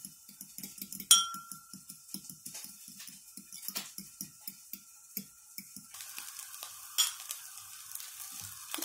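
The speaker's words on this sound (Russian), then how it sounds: "Два яйца слегка подсаливаем и перемешиваем" Two lightly salted eggs whisked in a bowl, a quick run of light clicking taps from the utensil against the bowl, close and fairly quiet, with a brief louder clink partway through.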